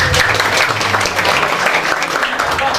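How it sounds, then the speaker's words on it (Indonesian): Loud applause from a school audience at a Maulid religious gathering in Jakarta, a thick continuous wash of clapping close by with little talk over it. "Tepuk tangan dulu dong buat kalian."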